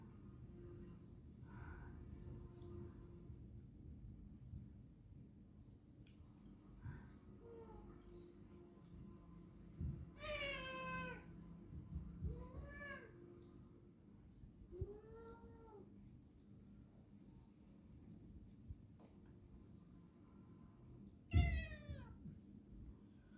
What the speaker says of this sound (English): So if you hear the yelling, it's my cat.